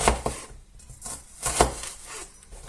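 A knife chops a medium-sized onion on a cutting board, giving a few distinct close-up cuts with sharp taps and short gaps between them.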